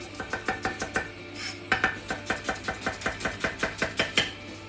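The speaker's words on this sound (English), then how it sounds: "So, just getting these onions nicely diced." A knife dicing onions on a cutting board in a home kitchen, giving a fast, steady run of crisp chops close to the mic, about three or four per second, loud and alone.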